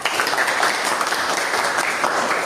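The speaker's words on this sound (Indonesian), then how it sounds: "Ya, tepuk tangan semuanya." A classroom of students applauds together during a religious education lesson, producing dense, even clapping that fills the room at a steady level.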